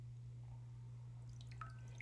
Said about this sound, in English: So I'm just going to dip it into the water